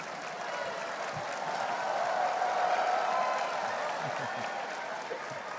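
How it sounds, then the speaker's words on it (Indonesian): Audience applause at a city leaders' national working meeting in Indonesia, a steady wash of clapping held at an even level for several seconds, swelling slightly in the middle with no speech over it. "Agak kenceng nih tepuk tangannya nih."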